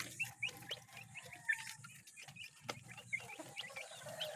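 Three sick chicks kept apart for medication peep in short, high repeated chirps scattered over a low steady background hum, faint and fairly close, with no talking.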